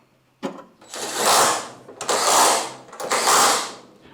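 Wheel nuts being spun on by hand on an RA28 Fastback Toyota Celica, three separate bursts of close whirring, ratcheting friction with short pauses between them and no talking.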